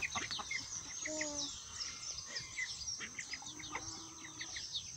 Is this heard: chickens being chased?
yes